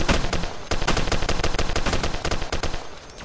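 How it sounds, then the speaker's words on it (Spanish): Dense, loud automatic gunfire in the Roblox game Grenades Slums, rapid overlapping shots rattling continuously with only a brief break, close and dominant. "Cuidado, te está disparando."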